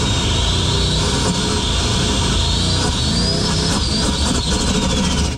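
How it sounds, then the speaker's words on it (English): Inside the cab of a garage-built Nissan 240SX prerunner, loud turbo whooshes and whistles ride over a dense, steady engine roar throughout, with a rising and falling high whine. "it just puts the most ridiculous turbo sounds in the cab"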